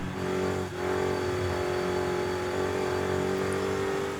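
A car in Forza Horizon 5 touge racing revs hard and sustains a high, whining engine drone with a brief dip as it shifts, loud and continuous without talk.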